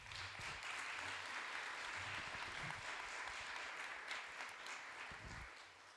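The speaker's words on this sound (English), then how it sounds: "Another round of applause, please." Audience applause at a spiritual talk, a dense continuous wash of clapping from a crowd lasting several seconds before easing slightly at the end.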